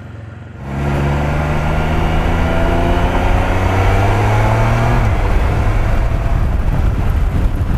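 A Can-Am Spyder F3 three-wheel motorcycle accelerates hard after a short quiet moment, its engine jumping to a loud, rising roar that climbs steadily and holds strong under throttle, heard from the rider's position with wind noise.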